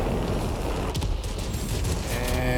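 Rapid aircraft machine-gun fire from a World of Warplanes air battle, an Imperial Japanese Army Zero firing in sustained, dense bursts that blend into a loud, steady rattle with engine roar beneath.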